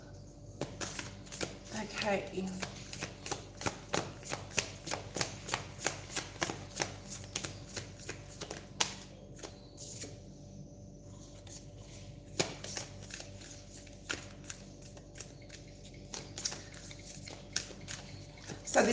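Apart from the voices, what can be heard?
shuffling tarot cards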